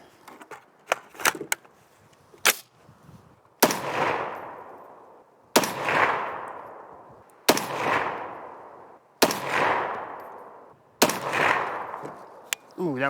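Ruger SFAR rifle firing PMC X-Tac rounds outdoors in a forest: five loud, sharp shots spaced about two seconds apart, each with a ringing echo tail, after a few lighter clicks and handling sounds.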